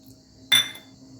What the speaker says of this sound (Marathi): आता मी कढईत टाकून घेत आहे दोन चम्मच धने